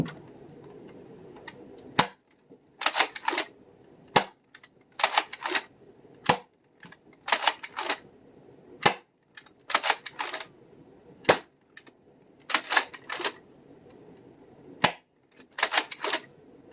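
A Nexus Pro blaster fires waffle head darts, sharp isolated snapping shots spaced a second or two apart, with clustered mechanical clicks of priming between them, close and with no talk.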